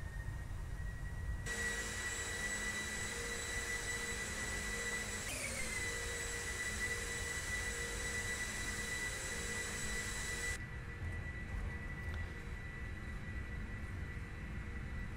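The jet engines of a Boeing 747-400 in the PMDG flight simulator spool up for takeoff, a steady roar with high whining tones that shift midway, continuous and loud, with no speech.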